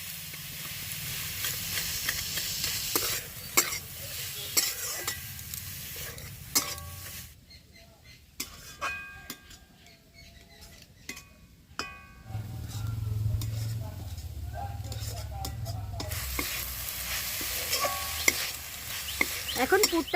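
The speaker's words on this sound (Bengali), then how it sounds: "তো এবার খুব ভালোভাবে আস্তে আস্তে এইভাবে মিশিয়ে পুরটাকে তৈরি করে নেব" Bhapa pitha filling is stirred in a pan, with scraping and soft sizzling. The frying hiss is strong at the start and end, and a quieter stretch in the middle holds sharp spoon clinks against the pan.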